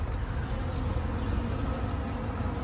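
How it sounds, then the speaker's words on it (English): Bees buzz around Peruvian apple flowers in a garden, a faint, steady hum with no voices over it. "A lot of bees."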